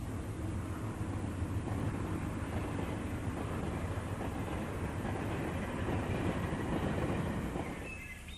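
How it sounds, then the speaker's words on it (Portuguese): A steam train runs through the Scottish Highlands out of Glasgow, its steady rumble and rolling wheel noise holding loud and continuous before easing off at the end, with no voices over it. "Os trens a vapor que partem de Glasgow permitem explorar as terras altas com conforto em qualquer clima."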